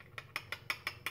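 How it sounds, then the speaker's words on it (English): Yogurt stirred in a cup: a quick, evenly spaced run of about seven light clicks or taps, faint and close, with nothing else around them. "I'm gonna stir that up"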